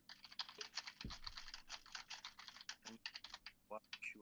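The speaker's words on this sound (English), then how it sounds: "his stupid not mechanical keyboard" Rapid typing on a non-mechanical computer keyboard, a dense run of soft clicks running throughout, with a voice talking over it at moments.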